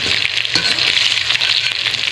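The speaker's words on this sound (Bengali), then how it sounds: "আলুগুলো ভেজে নেব।" Potatoes fry in hot oil, giving a steady, close crackling sizzle with occasional stirring bumps and no voices.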